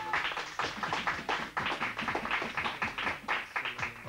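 Applause for two girls at a school graduation ceremony: a crowd claps steadily and loudly throughout, dense overlapping hand claps filling the room without letting up.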